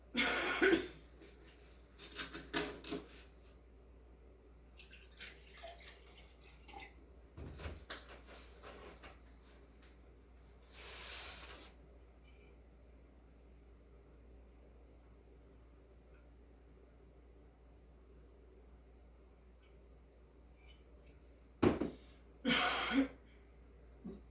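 Several short coughs and throat clearings come in scattered bursts, close and fairly quiet, separated by long stretches of near silence.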